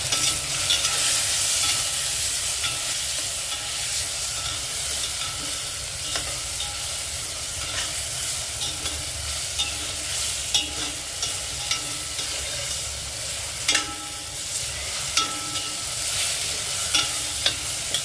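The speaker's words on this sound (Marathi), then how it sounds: "परतून घेऊया." Dried Bombay duck rice sautéed in a pan, a continuous soft sizzle with scraping stirs and occasional sharper clinks of the spoon against the pan.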